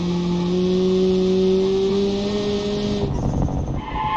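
An 80s American turbo sports car drifts around corners in BeamNG, its engine droning loud and steady at high revs, then shifting pitch abruptly toward the end with a rougher, squealing tone.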